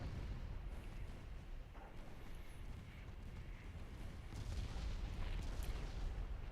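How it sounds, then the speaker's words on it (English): Naval artillery from battleships lobbing shells in Ultimate Admiral Dreadnoughts, a continuous low rumbling barrage of distant booms that rolls on steadily without any clear gaps. "This works really well when I have battleships lobbing shells in support."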